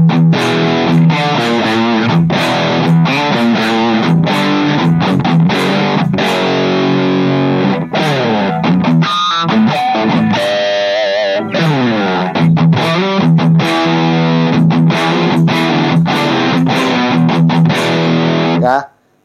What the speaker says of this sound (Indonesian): kalau misalkan kalian menemukan suara ini di lagu, ya ini dari distortion.